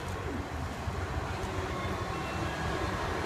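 A Southwestern train runs through Wareham station, making a steady, fairly faint rolling rumble with broadband rail noise. It is heard alone without any clear talk.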